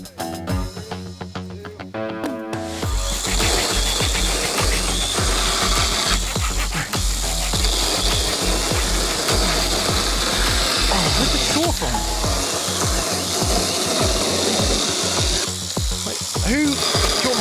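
A log being cut into pieces for a log store with a hand bow saw outdoors: loud, close, rhythmic rasping strokes of the blade through wood, repeating steadily for about fifteen seconds after a brief start.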